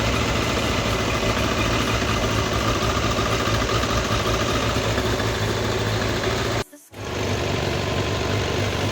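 A Suzuki Bandit 600 motorcycle engine idles steadily close by, warmed up during carburetor synchronization, with a low, even rumble, cutting out for a split second before resuming.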